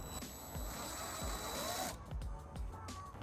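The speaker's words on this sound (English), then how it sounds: "we're going to use a 3/16 drill bit to drill that out" A drill with a 3/16 bit bores holes into the bumper of a 2013 Fiat 500c, a steady close whirring grind for about two seconds before it cuts off, leaving quieter handling clatter.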